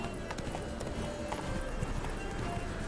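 Roach the horse gallops in The Witcher 3, a steady run of hoof clip-clops carried under a voice urging the chase, with game ambience filling the background throughout.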